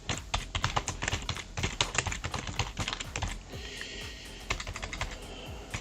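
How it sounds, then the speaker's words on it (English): A computer keyboard is hammered hard in a fast, dense clatter of loud key strikes, then eases into lighter, sparser tapping near the end. "I didn't realize how loud my keyboard is when I smash the keys like that"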